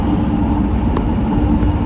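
Steady low rumble of an MRT train in motion, a constant loud hum and rattle filling the whole short stretch with no talk.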